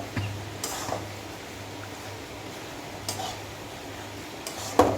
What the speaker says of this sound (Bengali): আর আমি নুডলস টমেটো সসটা দিয়ে নেব, দিয়ে ভালোভাবে নেড়ে নেব।